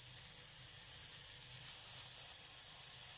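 Fatty meat sizzling in a dry frying pan without added oil, a continuous soft hiss at low volume, steady with no voices.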